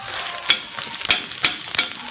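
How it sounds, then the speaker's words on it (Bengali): A fried egg is broken up with a metal spatula in a hot pan, sharp scraping knocks landing roughly every half second over a soft continuous sizzle. "ডিমটি একবার ভাজা হয়ে গেলে খুন্তির মাধ্যমে ভেঙে নিন।"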